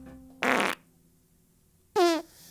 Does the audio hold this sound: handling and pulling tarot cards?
no